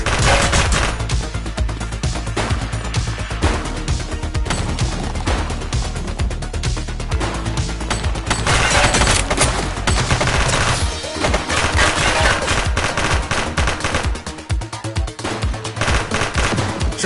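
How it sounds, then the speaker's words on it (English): Sustained heavy gunfire from someone shooting inside a police precinct, a loud continuous rattle of rapid automatic bursts with crashing impacts, filling the whole stretch without pause. "He's shooting!"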